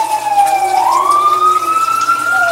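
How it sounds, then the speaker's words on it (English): A siren wails steadily nearby, its pitch sliding up and holding in a long continuous tone. "First it's traffic, now it's sirens."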